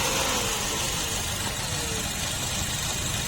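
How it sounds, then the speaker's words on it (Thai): A 2017 Suzuki Ciaz 1.2 GLX eco car engine idles in the engine bay with a steady, moderately loud hum and no break through the whole stretch. "เสียงเครื่องยนต์ของอีโคคานะคะจะดังแบบนี้เป็นปกตินะคะ"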